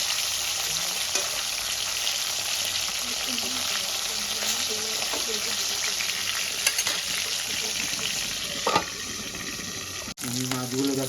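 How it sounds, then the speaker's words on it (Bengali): Katla fish pieces frying in a wok as they are turned over, a constant loud sizzle with scraping stirs and a sharp clatter near the end, with a voice faintly present. "এবার আমি মাছগুলো উল্টে দেবো।"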